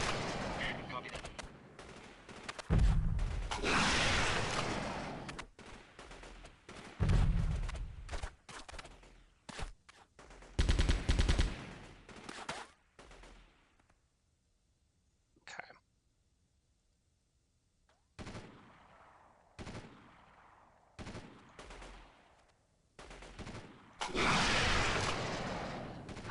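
Shots ring out in the video game DF2, heavy bursts of gunfire in several clusters separated by quiet gaps, some loud and close, others softer and sparser, with voices talking in between.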